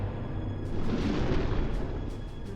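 Submarine torpedo launch in the UBOAT game, a deep rumbling whoosh with a muffled boom that swells and then settles into a low churning roar.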